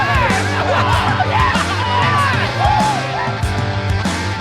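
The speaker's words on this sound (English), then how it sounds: "Thank you so much for the cheering and the applause" A studio audience cheers loudly, with whoops, yells and enthusiastic crowd noise layered over a steady roar of clapping.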